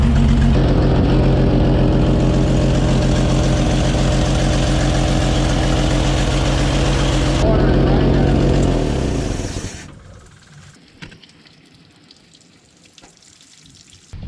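Engine of an old WW2 army truck, abandoned for some thirty years, runs with a loud steady idle and rattle for about nine seconds, then cuts off and leaves near-quiet.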